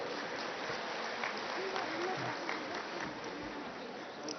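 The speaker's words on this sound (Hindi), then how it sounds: "दादी जी के लिए फिर एक बार ताली बजाइए" A hall audience claps for Dadi ji at a Brahma Kumaris gathering, the applause a soft, dense wash of many hands, distant and steady throughout.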